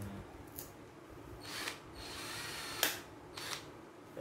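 A KOVA 20-volt cordless hand drill fitted with a newly bought bit runs in short bursts, several brief whirring spurts separated by pauses and one sharper click, close and fairly quiet.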